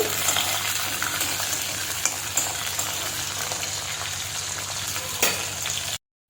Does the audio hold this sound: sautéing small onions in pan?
yes